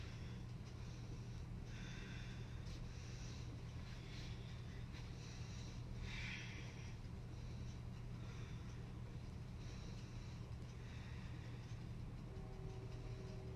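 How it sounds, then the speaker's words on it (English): Slow, hissing Ujjayi breaths drawn during a home yoga flow, faint and steady over a constant low hum, with a few breath strokes standing out more clearly than the rest. "Stay in your Ujjayi breathing."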